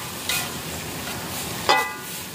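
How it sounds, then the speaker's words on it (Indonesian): Peanuts, tofu and tempeh being stir-fried in a pan in a home kitchen, a steady sizzle with two brief scraping stirs of the spatula, close and alone. "di sini lagi proses ngoseng teman-teman ya. Ngoseng kacang, tahu, tempe."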